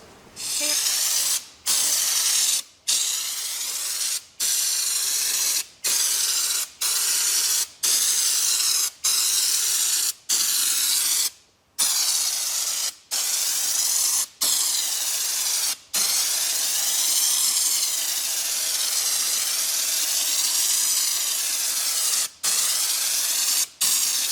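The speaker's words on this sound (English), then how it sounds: "Looks like it's spraying." A spray gun lays Raptor bed liner inside the bed of a 1972 K10 truck, a loud steady hiss broken by a dozen or so brief pauses as the trigger is released, close and alone with no talk.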